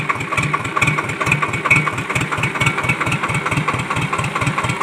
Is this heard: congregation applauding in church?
no